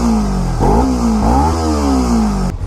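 A Kawasaki Ninja 300 motorcycle with an aftermarket exhaust revs up close, its pitch rising and falling over several throttle blips with no talking.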